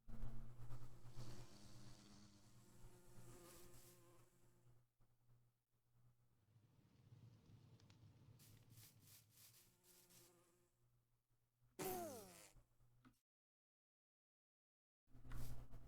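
Bees buzzing in the Minecraft video game, a faint, steady insect drone running beneath quiet game sounds, broken by a brief louder burst and a short stretch of silence near the end.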